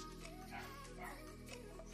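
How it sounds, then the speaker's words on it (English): A small dog indoors gives soft, quiet yips and whimpering bow-wows, faint and close, against a low room hum. "I don't mind my little dog there."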